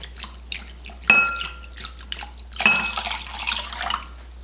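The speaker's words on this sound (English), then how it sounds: "now I'm going to be adding a 1/2 cup of cold water" Cold water poured into an orange dreamsicle salad dessert mixture, two splashy pours with dripping and trickling in between, close and moderately quiet, no talking.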